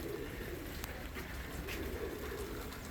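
Pigeons at a beachside resort, cooing faintly in the distance beneath a steady wash of wind or surf-like background noise.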